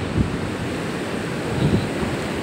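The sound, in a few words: sea waves on a beach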